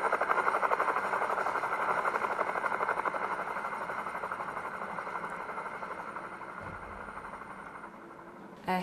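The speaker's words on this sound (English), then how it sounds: "a helicopter" A steady, droning rotor hum with a fast, even chop runs throughout, fairly loud and constant, like a helicopter hovering or passing nearby.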